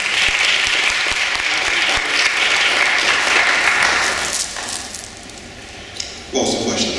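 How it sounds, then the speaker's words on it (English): Middle school debaters and audience clapping in a room: loud, dense applause that thins and fades after about four seconds, followed by a brief voice and some shuffling. "Please give yourself a round of applause on that also"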